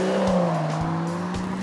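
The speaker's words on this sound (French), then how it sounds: "Une sonorité moteur exceptionnelle avec un passage des rapports éclair" A BMW 4 Series coupé engine pulls hard under acceleration, its steady strong drone holding close and loud, with brief dips where the gears snap through quick shifts.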